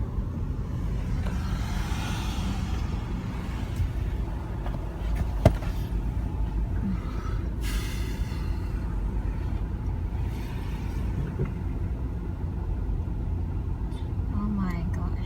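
Idling and slowly moving cars queue in a hospital car park, a continuous low engine rumble heard from inside a vehicle with a sharp click midway, while someone talks over it.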